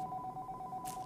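A telephone rings indoors: a faint two-tone electronic trill pulsing steadily for about a second, with a brief burst of noise near the end.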